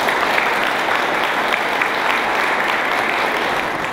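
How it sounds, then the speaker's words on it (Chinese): Sustained applause from an audience at a presidential reception honouring Taiwan's Paralympic table tennis silver medalists, steady dense clapping throughout without voices over it. "请大家给他们鼓掌"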